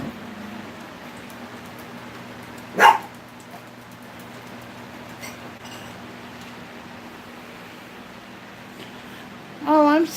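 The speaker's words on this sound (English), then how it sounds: "Dog's barking." A dog indoors gives two short barks, one near three seconds and another at the end, separated by quiet room hum with faint background noise.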